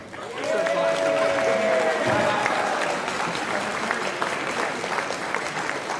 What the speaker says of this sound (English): I'd like to have a round of applause